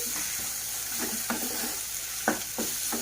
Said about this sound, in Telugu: అల్లం వెల్లుల్లి పేస్ట్ కూడా పచ్చివాసన పోయేంత వరకు మనం వేయించుకోవాలి